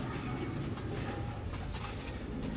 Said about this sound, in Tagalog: mag 5 taon na rin to yung ibon na to